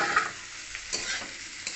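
Soybean chunks go into a pan of fried spice paste, giving a faint sizzle with a few soft stirring scrapes over a brief moment.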